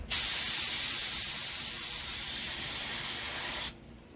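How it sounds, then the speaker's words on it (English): A steady, loud hiss of a spray gun spraying paint, one continuous burst lasting several seconds before cutting off abruptly. "Now I like to spray my greens with my spray gun"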